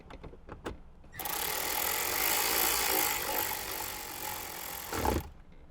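A powered driver whirs continuously for about four seconds as a screw is driven into a Jeep Wrangler JK dash at the window switch spot, preceded by a few light clicks and ending with a soft thump.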